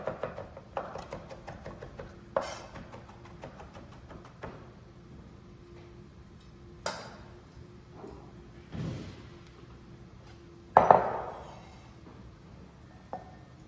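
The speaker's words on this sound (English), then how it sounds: "We're gonna take the florets of the broccoli and just chop it down as fine as we can." Broccoli florets chopped finely with a knife on a board, giving sparse, quiet, irregular thuds and taps with a few sharper knocks, spaced out over a low background.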